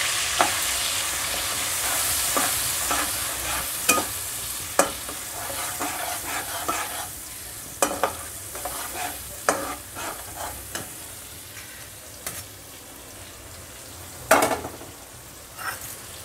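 Food frying in a pan with spices and salt, a continuous hiss broken by repeated sharp scraping stirs at irregular intervals, close and fairly loud with no talk.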